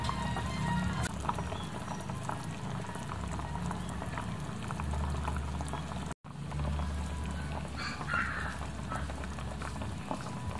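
A covered pot of water with fish sauce boils at a steady rolling bubble, a dense continuous gurgle that stays close and even, with one abrupt momentary break midway.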